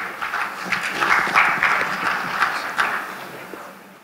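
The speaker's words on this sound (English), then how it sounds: "So can we have a round of applause and let's welcome on stage Mr." A conference audience claps to welcome a keynote speaker onto the stage, a moderate round of applause that swells in the middle and fades out within a few seconds.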